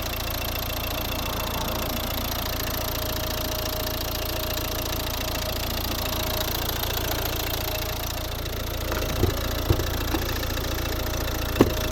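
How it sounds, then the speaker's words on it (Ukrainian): A 2011 Volvo V60 with a 1.6 D2 diesel engine idles, a steady, even hum with a slight knocking texture, heard close and alone, with a few sharp clicks near the end. "Ось робота двигуна."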